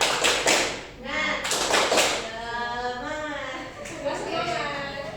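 Children clap in a classroom to the 'tepuk semangat' chant, a few sharp bursts of claps at the start, with voices chanting and talking over and between them.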